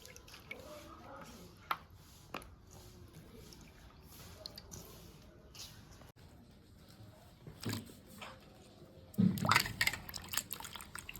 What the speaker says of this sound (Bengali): আলুটা আর একবার ধুয়ে নেব।